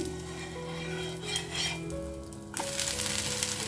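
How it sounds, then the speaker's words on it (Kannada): A potato and curd dosa roasts in ghee on a pan, sizzling steadily up close, with metal spatula scrapes and clinks against the pan and a louder burst of sizzle near the end; no speech. "ಇವಾಗ ಒಂದು ಸ್ವಲ್ಪ ತುಪ್ಪ ಹಾಕೋತಾ ಇದ್ದೀನಿ. ಇದನ್ನು ನಾವು ಚೆನ್ನಾಗಿ ರೋಸ್ಟ್ ಮಾಡ್ಕೊಳ್ಳೋಣ."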